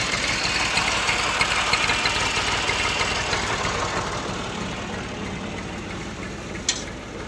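A tractor-powered sugarcane juice crusher runs in a village, its engine a steady, close, throbbing drone with mechanical vibration and a single sharp click near the end, no speech.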